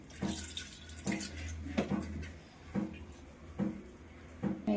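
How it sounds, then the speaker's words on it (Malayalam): Water poured into chicken curry in a pressure cooker, heard as a series of close, uneven splashes and gurgles with short pauses between them. "കുറച്ച് വെള്ളം ഒഴിച്ച്"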